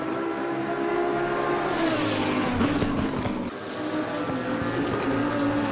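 GT2 and GT4 race cars scream around the Hungary circuit in a racing video game during a three-hour multi-class event, engines droning loudly and shifting pitch as they carry speed through the corners.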